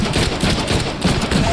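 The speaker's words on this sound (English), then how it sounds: "Who's shooting at me?" Gunfire in the Deadpool video game rattles continuously through a dense, busy mix, with rapid shots blending into steady game action noise.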